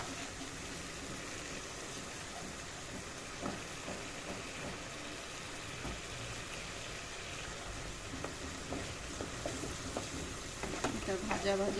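Poppy seed paste, ground with green chilli, salt, sugar and turmeric, sizzles in a pan for a shrimp posto curry, a continuous crackle broken by scraping stirs and louder spoon knocks toward the end.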